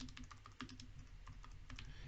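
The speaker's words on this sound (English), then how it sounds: "I can type in my message." A message typed on a computer keyboard, with soft, close key clicks tapping in quick uneven clusters over a low background hum.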